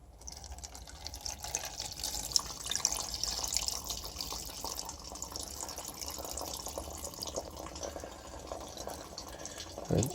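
Water is poured off tomato seeds in a container, a continuous trickling, splashing pour with a faint gurgle, steady and close, ending in a brief louder splash.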